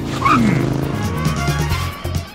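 A cartoon car speeds up during a chase with a quick rising squeal, then a rumbling engine run that ends in a few sharp bumps, moderately loud.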